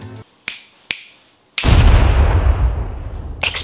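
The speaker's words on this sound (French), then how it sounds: "Explosion. Ok." A few sharp clicks lead into a sudden loud boom that rumbles and fades over about two seconds, followed by another quick burst.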